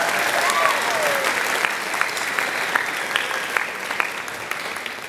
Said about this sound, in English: Could we give a round of applause for Alyssa?